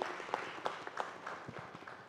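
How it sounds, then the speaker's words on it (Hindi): An audience applauds for Abdul ji at a television show event, a short stretch of scattered clapping with distinct individual claps, fairly faint and steady for about two seconds. "अब्दुल जी के लिए जोरदार तालियां हो जाए लेडीज एंड जेंटलमैन।"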